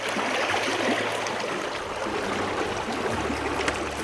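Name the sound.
South Fork of the Snake River flowing, eastern Idaho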